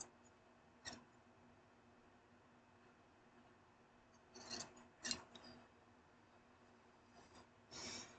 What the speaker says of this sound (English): Sorry about my scissors.